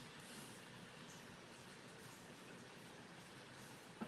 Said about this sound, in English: Like the diesel sound just sounds like it's running extremely rough, like the engine.